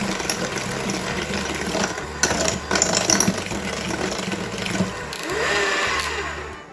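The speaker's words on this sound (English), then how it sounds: "Now we're going to give that a quick mix as well." An electric mixer beats dairy-free, eggless cookie dough for Lucky Charms drop cookies. It makes a close, steady motor whir that shifts slightly in pitch and runs without pause, with no voices.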